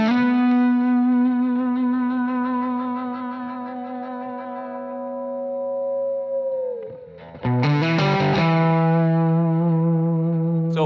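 An electric guitar played through a BluGuitar AMP X amp modeler with effects loaded sustains a long, distorted note with chorus and echo that fades, then a fresh loud chord rings out, heard up close with no talking.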